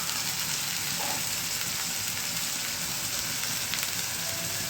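Vegetable tempering sizzling hard in a pan as a little water goes in, a dense steady hiss and crackle that holds for several seconds with no voice over it.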